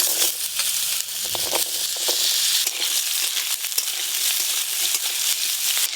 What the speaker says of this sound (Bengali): একই তেলে আলুগুলো একটু ভেজে নেবো।